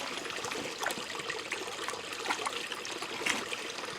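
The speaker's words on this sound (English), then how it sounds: "I'm going to dip my hand in the creek here" Creek water trickles and splashes around a hand dipped into the stream, a steady close gurgle with small bright drips and no voices.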